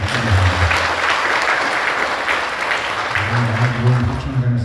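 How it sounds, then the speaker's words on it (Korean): A congregation applauds the temple choir with steady, dense clapping that fills the room, a voice sounding faintly beneath the start and end. "우리 합창단들께 격려의 큰 박수 한번 부탁드립니다"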